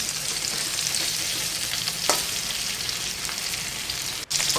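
Pieces of pointed gourd (potol) frying in hot oil in a pan, a steady close sizzle with occasional spatters and a brief stir, no voices over it.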